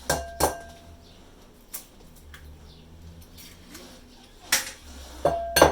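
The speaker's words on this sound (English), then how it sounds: "Crack my eggs." Eggs crack against the rim of a bowl in sharp, close taps, first two near the start and then a few more near the end, with quiet kitchen handling in between.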